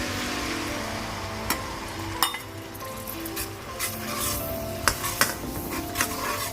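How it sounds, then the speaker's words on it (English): Curry paste fries in a pan for curry chicken, a soft steady sizzle broken by spatula scrapes and sharp metallic clinks against the pan. "So right now I will start frying the curry paste."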